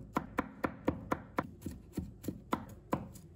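A knife chopping garlic into small pieces on a cutting board: about a dozen crisp, evenly spaced close taps in a steady rhythm, with no voices.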